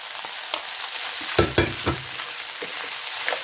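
Ginger, cashews, onions and peppers frying with chicken in a pan, a bright steady sizzle broken by a few sharp scraping stirs and clacks of the utensil.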